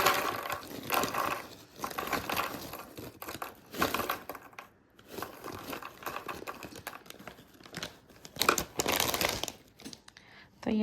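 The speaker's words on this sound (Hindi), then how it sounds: "फिर हमने ये डालनी है ये चिप्स 27 ग्राम्स।" Potato chips tumble from a crinkly snack bag onto a plate resting on a kitchen scale, a near, busy run of rustling and crackling bursts with short pauses between pours.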